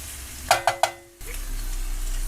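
Chinese fried rice stir-fried in a wok, with three quick scraping, clattering strokes of a utensil followed by a steady, close sizzle of frying.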